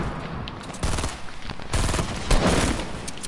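Video game gunfire in an online shooter: repeated bursts of rapid automatic fire and scattered single shots crackle at varying distances, loud and dense throughout with no talking.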